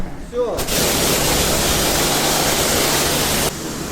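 A short voice, then a loud steady hiss of spraying water for about three seconds that cuts off abruptly, leaving a quieter hiss.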